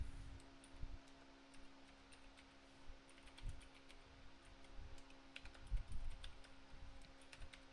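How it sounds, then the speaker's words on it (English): Computer keyboard typing while code is entered, faint scattered key clicks at an uneven pace over a low steady hum, with no speech. "Right now I'm going to type void."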